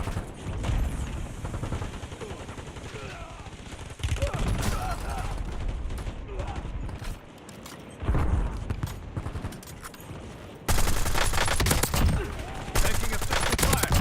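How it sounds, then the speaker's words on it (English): Heavy gunfire in a war zone video game, with a dense, sustained fusillade of shots and bursts that swells louder in places and goes on under radio-style voices the whole time. "Taking effective fire."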